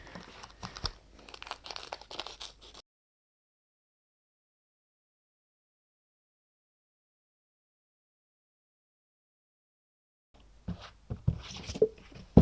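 Cutting a circle out of under-hood insulation matting for a Subaru bonnet: close crinkling and tearing scrapes in two bursts separated by a long silent gap.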